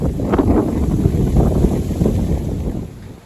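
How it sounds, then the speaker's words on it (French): Strong summer wind buffets outdoors, a dense, continuous rumbling roar of gusts hitting close and loud for a few seconds before easing slightly at the end. "C'est un temps estival, mais battu par le vent."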